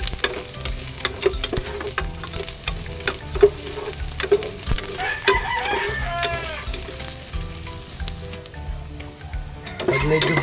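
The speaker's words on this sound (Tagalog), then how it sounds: "Igisa natin maigi yung luya." Ginger sizzles loudly as it sautés in a hot pan, a dense frying crackle with scraping stir strokes. A rooster crows nearby in the background.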